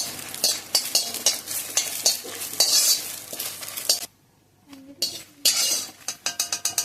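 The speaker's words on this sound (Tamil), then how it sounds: "காஞ்ச மிளகாய் போட்டு வறுத்துருங்க" Dried red chillies roasting in a pan for paruppu podi, stirred with a metal utensil: continuous close scraping and dry sizzling, a brief near-silent pause, then the stirring resumes with clinks, no one speaking.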